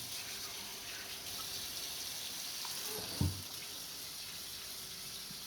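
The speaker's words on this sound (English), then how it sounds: "We're going to rinse until we get most of this dye out." Cold tap water runs steadily over a tie-dyed shirt in a sink, a soft continuous rush with one brief thump partway through.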